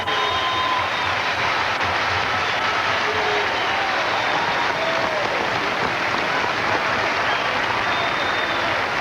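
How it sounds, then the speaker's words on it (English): A bowling crowd at the 1995 Touring Players Championship rises to its feet, applauding loudly and steadily without a break for several seconds, with the roar filling the hall. "And they're on their feet. The whole crowd."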